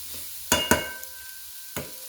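Hamburger meat browning in a pan for a quick thick chili, with a faint sizzle beneath a few sharp utensil scrapes and knocks against the pan, spaced irregularly and close by.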